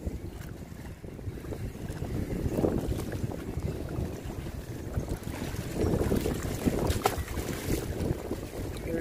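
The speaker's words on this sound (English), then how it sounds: "It's a bit too windy." Wind gusting across an open bream-fishing bank, buffeting the microphone in low, uneven rumbles that swell and ease throughout.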